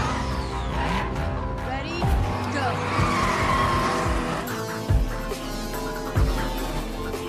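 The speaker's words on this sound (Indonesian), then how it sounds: "Dan balapan tersebut dimenangkan oleh Dom." Cars race and skid in the film F9, with roaring engines and repeated tire squeals over a loud, busy mix, while a voice narrates over the action.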